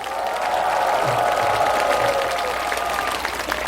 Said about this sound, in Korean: 우리 다시 한번 김영서 단장님께 우리와 같은 박수 부탁합시다.